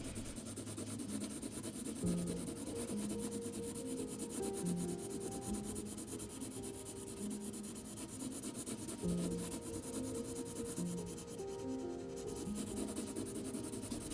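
Coloured pencil shades on paper with medium pressure, making a continuous dry rubbing scratch in steady back-and-forth strokes, close and alone, with soft background music beneath.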